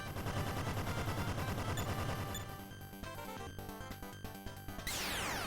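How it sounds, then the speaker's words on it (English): A bomb attack in the retro video game Emerald Dragon: a dense, loud burst of crackling, gunfire-like explosion noise, then a run of sharp staccato blasts and a final sweeping chime, with no talking. "we can have Tamarin use the bomb"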